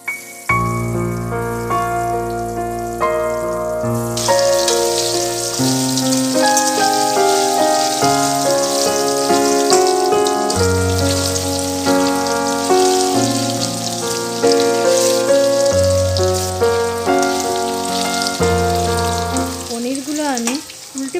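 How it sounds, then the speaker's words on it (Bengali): Paneer pieces fry in hot mustard oil in a wok, a constant crackling sizzle running beneath loud background music throughout, with no one speaking. "এখন আমি পনিরগুলোকে ভেজে নেবো"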